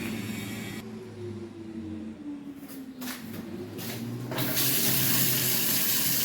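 A tap runs steadily into a sink in an apartment, the water growing louder and fuller near the end, close by with a low background hum.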